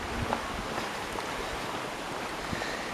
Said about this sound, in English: Little babbling brook.